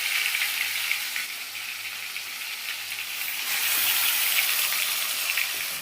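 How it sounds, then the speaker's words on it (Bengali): Marinated chicken chaap frying in hot mustard oil, a steady loud sizzle and hiss that swells slightly partway through, with no voice over it. "এবার তেলের মধ্যে চলে যাচ্ছে সেই মাংসটা, চাপের মাংসটা।"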